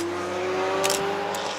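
A BMW M3 on a race track during a BMW track day, its engine droning steadily with a sharp rise as it passes close by, alone without voices.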